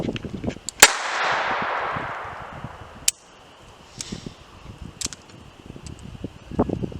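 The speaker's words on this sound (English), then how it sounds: "First shot double action." A Walther TPH .22LR pistol fires a sharp double-action shot outdoors, followed by a long decaying rush, then a few fainter cracks and rustling handling noises nearby.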